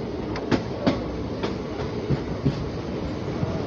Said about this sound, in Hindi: ये ट्रेन अपने गंतव्य स्थान अगले स्टॉपेज निहालगढ़ रवाना हो चुकी है।